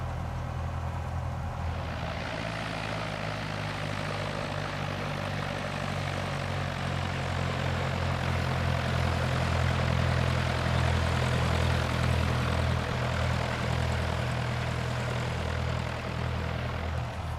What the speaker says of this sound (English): I like the sounds that it has. It's very, very true to life of a real Cessna.